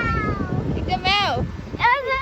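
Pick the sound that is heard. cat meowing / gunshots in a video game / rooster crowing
cat meowing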